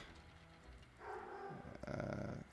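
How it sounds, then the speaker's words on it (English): A dog growls low and close in a room, a rumbling snarl that swells and intensifies toward the end, with no talk over it. "Apologies for the dog in the background."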